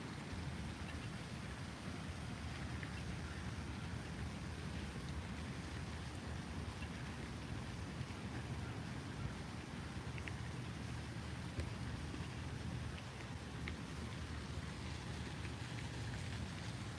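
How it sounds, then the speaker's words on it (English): Light rain falls steadily outdoors in Jefferson City, Missouri, a continuous even hiss of drizzle with no breaks and no talking. "Yeah, we need the rain."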